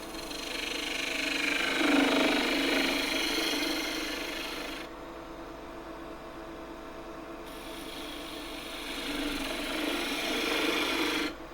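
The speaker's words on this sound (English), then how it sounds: "you can make an entry cut somewhere around here. Bevel lined up with where I want to go" A wood-turning gouge making an entry cut into spinning wood on a lathe gives a steady, close rasping cut that rises, drops away for a few seconds while the tool is lifted, then resumes.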